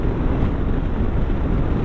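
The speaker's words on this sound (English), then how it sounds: "An awful lot of wind buffering at speed, mind. I get absolutely battered with the wind" Heavy wind buffeting roars over a rider on a Yamaha Tenere T7 motorcycle at speed, a loud, constant, low rumbling blast close to the microphone with no break.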